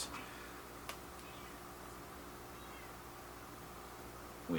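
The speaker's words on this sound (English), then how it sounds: "a kitty that is demanding attention" A cat meows for attention indoors, giving faint, short calls against a quiet, hissy room background, with a brief tick near the start.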